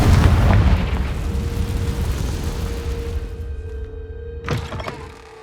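Confringo fire spell in the video game Hogwarts Legacy, a deep booming blast that opens loud and rumbling, then decays over several seconds into a low lingering hum, with a sharp crackling burst near the end.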